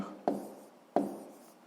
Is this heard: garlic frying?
no